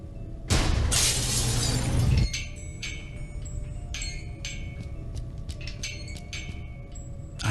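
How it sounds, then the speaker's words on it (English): Glass above a laboratory door shatters in the adventure game Gibbous - A Cthulhu Adventure. A loud, sudden crash bursts out for under two seconds, then gives way to quieter scattered tinkles over a low ambient hum. "I got rid of the glass above the door to the lab."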